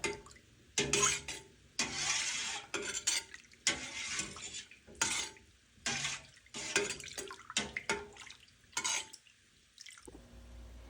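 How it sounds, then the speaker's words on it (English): A spoon stirs milk in a metal pot for Camembert cheese, making repeated sloshing, dripping swirls in short bursts with brief pauses between strokes, close and fairly clear. "we give it a good stir"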